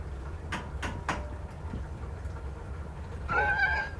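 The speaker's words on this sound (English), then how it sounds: "The horses are coming to eat a salt." Wild horses in the mountains coming to a salt lick: a few faint, sharp hoof knocks at first, then a clear, fairly distant neigh near the end over a low outdoor rumble.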